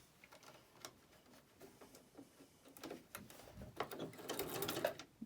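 Sewing machine stitching a box with an X on a fabric-scrap lanyard near a D-ring, quiet rapid needle ticking in short bursts with pauses for turning, building to a longer faster run near the end.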